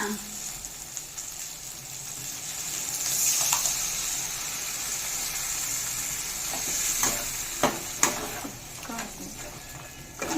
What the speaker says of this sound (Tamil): இப்போ இதில் தூக்கி நம்ம குழம்பு ஊற்றிடலாமா?